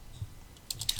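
Typing on a computer keyboard gives a quick cluster of close, crisp key clicks in the last half second after a quiet start.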